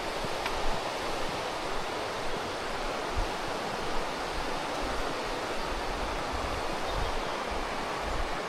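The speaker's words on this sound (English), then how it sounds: "Occasionally those little waterfalls off the side." Small waterfalls run off the side of a flat canal path, giving a steady broadband rush of falling water that holds constant and moderately loud throughout.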